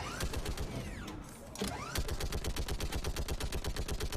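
A mounted turret in Mass Effect fires rapid rhythmic bursts, steady mechanical rattling shots that pause briefly and then resume in an even, fast cadence, loud and close.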